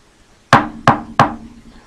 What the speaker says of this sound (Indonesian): Suara ketukan pintu di rumah Mbak Ahmad.